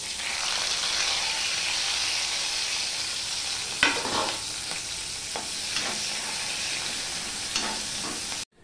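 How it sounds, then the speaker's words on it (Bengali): Chopped onion and green chilli fry in hot oil with black cumin, giving a steady, close sizzle broken by a few sharp scraping stirs of the spatula toward the middle and end. "কালো জিরাটা হয়ে গেলে এখানে আমি পেঁয়াজ আর কাঁচা লঙ্কা দিয়ে দিলাম।"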